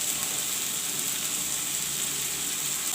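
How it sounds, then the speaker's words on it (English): Stuffing of parval seeds and masala with salt frying in a pan, a steady close hiss and sizzle that runs evenly without pause and with no talk. "I will fry this a bit."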